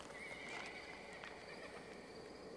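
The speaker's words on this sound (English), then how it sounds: "It's a horse." A horse whinnies in a quiet evening setting, a clear high neigh rising and falling over a faint steady background hiss, with no one talking.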